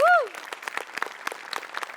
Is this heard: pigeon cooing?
no